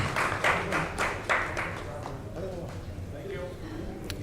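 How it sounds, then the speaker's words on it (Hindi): An audience claps at an open-mic awards event, a burst of rhythmic applause up front that fades into scattered claps while someone speaks over it. "ताली बजा दीजिए ज़रूर जो है।"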